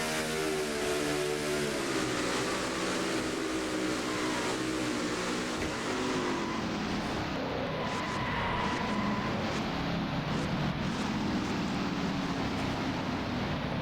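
Onboard race car engine from a NASCAR-style stock car racing game at Charlotte, a loud sustained drone that holds steady and then shifts pitch partway through, with no talking over it.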